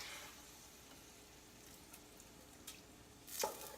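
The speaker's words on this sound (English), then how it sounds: "Time to drain the burger into the pot." Fried ground beef is drained from the pan into a pot of keto taco soup, with faint steady sizzling and a brief wet splattering pour near the end.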